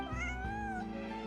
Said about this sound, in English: Owner? Not a stray cat then?